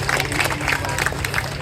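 An audience at a welfare society event claps together in a short burst. Dense, close applause is fairly loud and even for under two seconds, with no talk on top.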